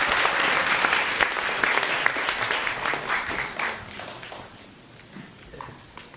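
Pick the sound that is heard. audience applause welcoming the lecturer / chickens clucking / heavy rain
audience applause welcoming the lecturer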